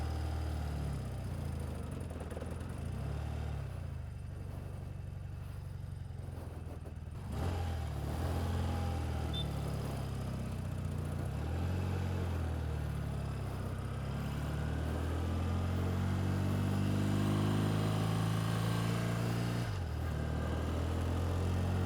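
Steady engine drone of a 1982 BMW R100 RT motorcycle out on a road ride, rising in pitch and briefly dipping at gear shifts around the middle and near the end, continuous and moderately loud throughout.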